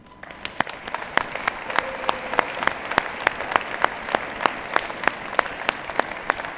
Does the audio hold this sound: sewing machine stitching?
no